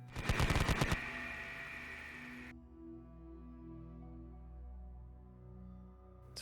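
Heavy machine gun fire as a battle effect for a Konflikt '47 tabletop wargame, a loud rapid burst of about a second followed by a fading, ringing metallic tail.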